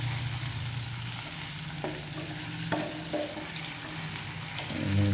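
Food frying in a pan while being stirred during home cooking, a steady close sizzle with occasional scrapes and clinks of the utensil, no talking.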